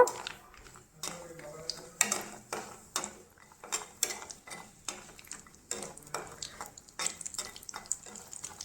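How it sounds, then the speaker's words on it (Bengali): Lentil nuggets fry in mustard oil in a wok, with a faint sizzle beneath repeated sharp scrapes and clanks of a metal spatula stirring at a steady pace. "ডালের বড়িগুলোকে আমি লাল লাল করে ভেজে নেব"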